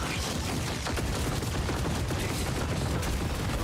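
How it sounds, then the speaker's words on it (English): A video game weapon barrage fires in a dense, continuous rolling roar of overlapping blasts, loud and unbroken throughout. "Launching barrage."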